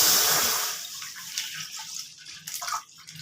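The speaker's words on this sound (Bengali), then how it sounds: "কড়াটা গরম হয়ে গেছে, এবার 1 প্যাকেট দুধ আমি এর মধ্যে কড়াতে দিয়ে দিচ্ছি।" A packet of milk is poured into a heated kadai for orange payesh, a sweet rice-pudding dessert. A loud splashing, hissing rush comes first and then fades into quieter bubbling.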